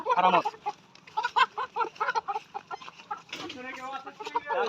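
Layer-farm hens being delivered cluck in rapid repeated bursts, close and moderately loud, with a few louder squawks, while someone talks nearby.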